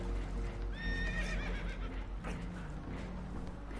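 Spooked horses in Red Dead Redemption 2 let out a sharp whinny, with hoof clatter and low rumbling game sound continuing underneath.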